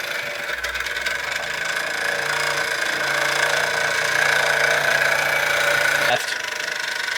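A 1949 Mamod Minor 1 model steam engine, gas-fired, running steadily with a continuous mechanical whir and fine rapid chuffing that cuts off sharply near the end.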